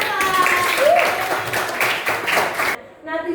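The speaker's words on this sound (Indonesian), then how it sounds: "Oke, tepuk tangan untuk Johan." A class of students applauds for a classmate with a brief burst of dense clapping mixed with voices, cutting off abruptly before a short pause and more talk.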